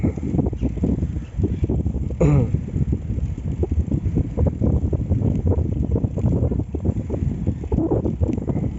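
Wind in Pasir Ris Park, Singapore, buffets the microphone in continuous gusty rumbles, steady and fairly loud throughout, with no voices.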